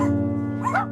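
A mother dog kept in a cold cage at a puppy mill, guarding newborn pups, gives a brief, close whining yelp with a tonal, slightly rising cry.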